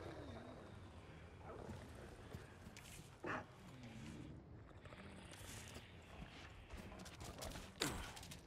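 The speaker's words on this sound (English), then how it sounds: "These dogs are so much faster than the last game." Infected dogs in the Resident Evil 4 Remake game snarl and growl amid scattered in-game clatter, footsteps and sharp impact bursts.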